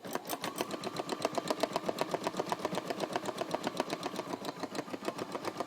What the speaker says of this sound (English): push the button again to start embroidery